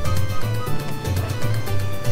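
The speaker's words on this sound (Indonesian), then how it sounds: "Sorry banget teman-teman ya kalau ada suara motor." A motorbike engine runs in the background near a car in a Grand Theft Auto V Online session, a low steady rumble with rhythmic throbbing pulses throughout.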